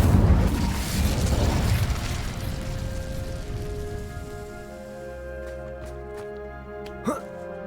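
An Incendio fire spell in Hogwarts Legacy erupts as a loud, crackling whoosh of flame that roars up at once and then fades away, leaving a quiet tonal hum with a small pop near the end.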